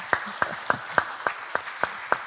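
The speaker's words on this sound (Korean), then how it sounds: "큰 박수 한번 부탁드리겠습니다." At a book concert, a small number of people clap in slow, evenly spaced single claps, about eight distinct sharp hits at a steady rhythm, fairly close and moderately loud.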